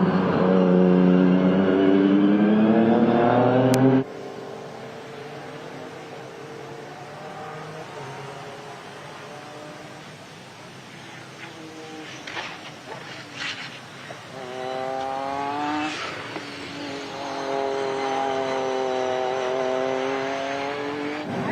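A race car with a Nissan VR38 engine laps a circuit, heard loud and close at first, then dropping to a more distant engine note that rises and falls as it accelerates and revs through the lap.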